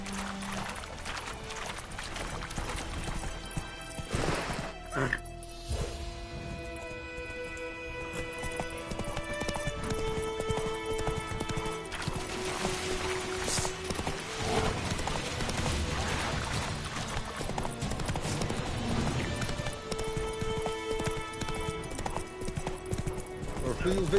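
Roach, a horse in the Witcher 3 video game, trots steadily with clear, rhythmic hoof clip-clops running throughout, joined by occasional whinnies, with a voice speaking over the gait.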